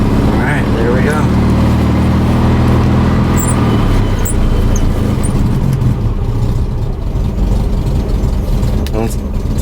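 Classic VW Super Beetle engine idling unevenly, a loud steady low rumble with a rough mechanical throb that runs continuously and close by.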